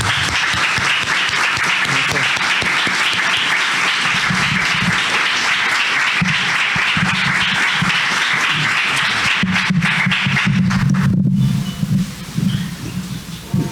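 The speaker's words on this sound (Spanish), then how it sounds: "al cual lo recibimos con un caluroso aplauso" A university audience at a Guadalajara event claps warmly to welcome a speaker, a dense sustained applause that fills most of the stretch before tapering off into scattered claps and low room noise.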